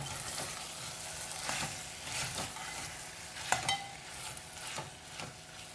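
Quail curry masala frying in a pan on the stove, a steady sizzle with repeated scraping strokes of a spoon stirring through it, close and moderately loud.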